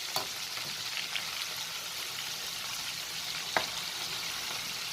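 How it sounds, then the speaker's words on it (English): Chicken wings fry steadily in a covered pan, a dense, even sizzle with a few louder pops and crackles, and nobody talking. "we've let the wings cook for around 5 to 6 minutes now"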